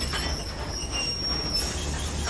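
A train from the western video game Gun rolls along with a steady low rumble, topped by high, thin metallic wheel squeals. It sits at a moderate level with no voices.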